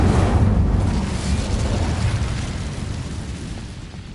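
Incendio fire spell cast in a PS4 video game, a loud dense rumbling burst of flame that starts strong and slowly fades into a roaring hiss over a few seconds; no talk.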